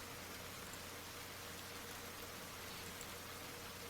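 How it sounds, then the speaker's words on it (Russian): Heavy rain pours down in The Bathhouse video game, a constant, even hiss of downpour with no breaks, heard at low level and alone. "Какой сильный ливень."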